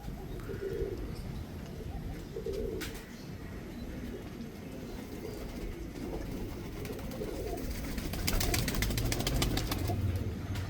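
UK brand second-generation racing pigeons coo in low, repeated bursts over a steady rustling background, with faint chirps and wing sounds rising toward the end.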